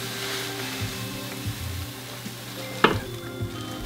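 Grain is stirred into a brewing mash for an orange-flavored white beer. The stirring is a soft, wet, sizzle-like wash with faint scraping and one sharp knock near the end.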